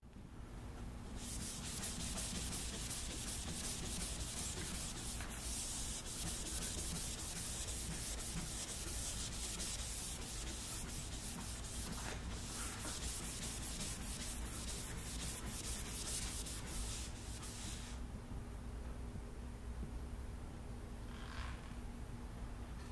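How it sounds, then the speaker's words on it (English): Hand sanding of automotive paint with a maroon Scotch-Brite pad, a steady dry scratchy rubbing that continues close and loud for most of the stretch before easing off near the end. "I'm just going to sand it down by hand."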